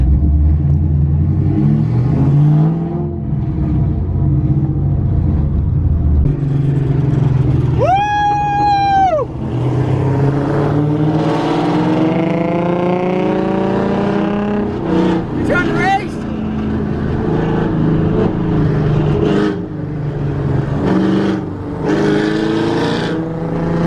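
A drift car's engine revs and rumbles as it slides out of control, with rising and falling whines and a sharp high tone partway through, loud and continuous, while people talk over it.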